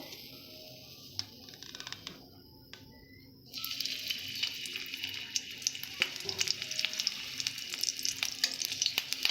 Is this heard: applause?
no